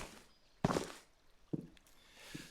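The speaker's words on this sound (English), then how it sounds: "Let me just get the sound of the footstep a bit lower." Simulated footsteps from Twinmotion walk mode on the ground land as three soft, spaced thuds over a quiet background hiss, the first one loudest and the later ones fainter.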